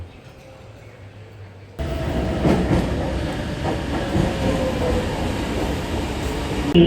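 Metro train in Malaysia heading to the next station: quiet cabin hum at first, then a sudden jump to loud, continuous rumbling rail noise with faint clicking wheel rhythm carrying on steadily to the end.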